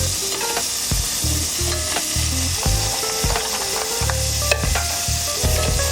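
Crabs sauté in melted butter in a pot with a loud, continuous sizzle, broken by scraping stirs and light knocks against the pot, close up and without talk.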